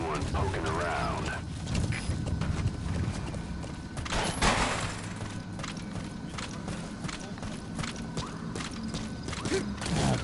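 Horse hooves clip-clopping steadily at a walking pace in Metal Gear Solid V: The Phantom Pain, with a brief whoosh and a voice talking over the rhythmic hoofbeats.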